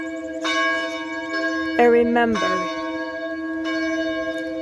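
Church bells ring in Portland, Ontario, their sustained, overlapping tones swelling and fading in steady peals, with a brief spoken word near the start.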